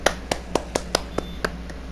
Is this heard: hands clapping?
yes